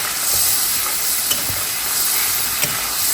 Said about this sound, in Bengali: এটা হালকা একটু কষিয়ে নেব